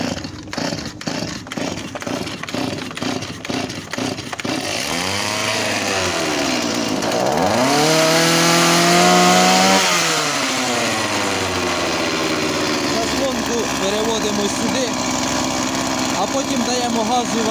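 A Stihl 180 chainsaw engine, just back from carburetor cleaning, sputters through a few uneven pulses, then catches and revs up and down before settling into a steady loud idle close by.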